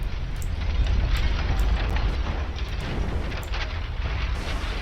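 Warship fire and sinking in the naval strategy game Ultimate Admiral Dreadnoughts: a steady, loud roar of burning and rumbling with scattered crackling pops and bursts throughout, no talking.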